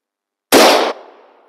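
A single sharp, loud rifle shot from a rifle fitted with a muzzle brake at an outdoor range, a hard blast with a short reverberant tail fading out into silence.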